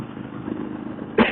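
Motorcycle cruising on a Montana interstate, a steady mid-pitched engine drone with wind rush throughout, rising to a louder burst near the end.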